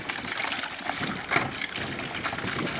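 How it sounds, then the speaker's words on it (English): A gallon of vinegar pours into a bucket, a close, continuous gushing splash of liquid that holds steady for a few seconds without pause. "and pour it in a bucket."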